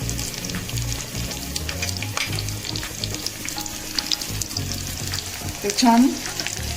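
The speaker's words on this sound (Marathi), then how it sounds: "चण्याच्या मसाल्यावर आपण तुपाची छान फोडणी देऊ." Hot ghee with crushed garlic and a chili sizzles and crackles steadily in a pan, poured over black chickpea masala, with occasional stirring and a brief spoken word near the end.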